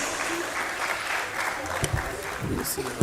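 Steady applause from parents at a school prize distribution fills the room, with a few louder individual claps standing out near the end.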